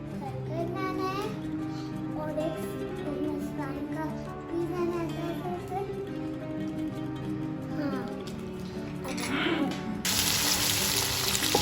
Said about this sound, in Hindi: तो बस मैं इसका चिकन कढ़ाई बना रही हूँ बोनलेस